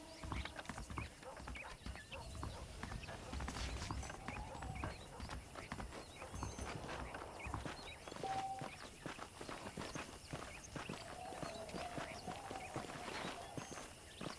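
Horse hooves clip-clop steadily on the ground in the Red Dead Redemption video game, a continuous rhythmic walk heard close, with game ambience underneath.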